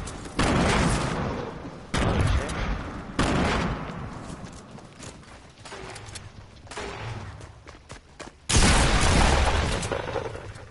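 Explosions and bursts of gunfire from a Fortnite squads match, loud and close, with sharp blasts recurring every couple of seconds over a continuous rumble of combat.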